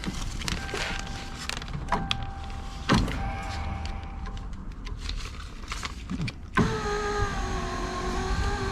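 A 1995 Toyota Corolla with a newly replaced window regulator: a few thunks and clicks inside the door, then the electric power window motor starts a steady, rising whine as the glass moves.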